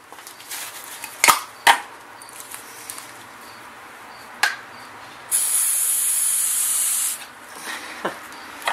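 An aerosol can of rust converter sprays one continuous hiss lasting about two seconds, with a few sharp clicks and knocks before it and faint handling noise after.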